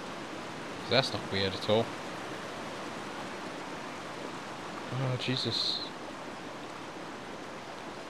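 Steady broadband rush of a waterfall in The Sims 3 runs throughout, continuous and even, with a few brief spoken exclamations over it.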